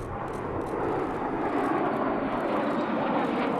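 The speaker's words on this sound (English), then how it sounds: "4 L-39s soared by with one peeling off in the missing man formation" L-39 jet aircraft fly over during a military funeral flyover at Arlington, a broad rushing engine roar holding steady and loud across the sky, with no talk.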